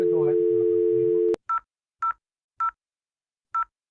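A telephone keypad dials out in a quick series of four short, evenly clear beeps with gaps between them, following a steady dial tone at the start.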